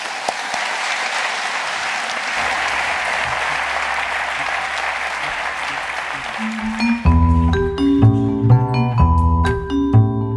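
An audience applauds hip-hop performers from a school at a talent show in a large concert hall, with loud sustained clapping that gives way after about seven seconds to piano-like music notes.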